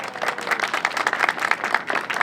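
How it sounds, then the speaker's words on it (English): An outdoor audience at a stadium field and track ribbon-cutting ceremony claps in a dense, steady round of applause, many hands close together with no voices above it. "Let's give her a round of applause."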